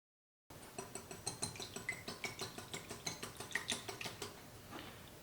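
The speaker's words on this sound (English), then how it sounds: "I need to crack the eggs in a separate bowl and whisk them up" A whisk beats eggs in a separate bowl, a quick, fast, regular run of clinking taps and scrapes against the bowl, close and fairly quiet, with no talking.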